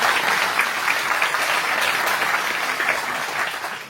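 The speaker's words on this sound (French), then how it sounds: "Je vous applaudis." An audience in a hall applauds during a French gathering, a full steady patter of many hands clapping that holds for several seconds and tapers slightly at the end.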